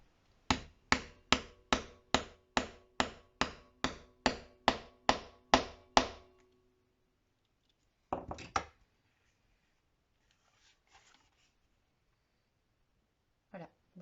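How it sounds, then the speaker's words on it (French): A small hammer taps a metal setting tool set upside down on an eyelet to crush it flat while making a scrapbook album: about twelve quick, evenly spaced close knocks, then a pause, a brief scuffle and one final tap. "Et là, avec un petit marteau,"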